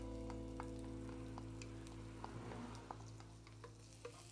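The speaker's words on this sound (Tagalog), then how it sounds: "Now, we will cook our tomato paste." Tomato paste frying in a pan for pork menudo, a steady sizzle with occasional stirring clicks and scrapes, close and continuous with no talking.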